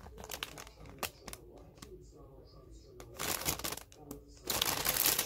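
A small subscription-box bag from a Curiology Coven Club unboxing crinkles and rustles in short handled bursts, close and moderately loud, with quieter pauses between the crumpling sounds.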